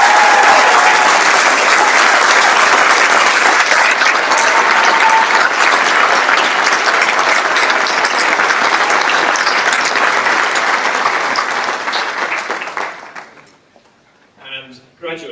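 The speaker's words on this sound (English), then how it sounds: "give a huge round of applause to our 2022 graduates" An audience of trustees, family and friends gives a long, loud round of applause for the 2022 graduates at the St Nicholas graduation ceremony, steady dense clapping that fades out near the end before a brief voice.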